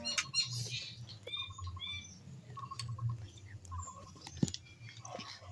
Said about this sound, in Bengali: আমি একটুখানি খেয়ে দেখাচ্ছি